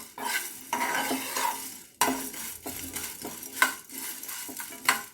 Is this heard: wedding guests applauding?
no